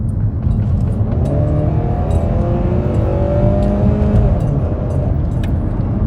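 A 2010 Dodge Avenger R/T with nearly 200,000 miles drives slowly in its lowest gear, its engine droning steadily with a rising whine as it strains along, with no talk over it.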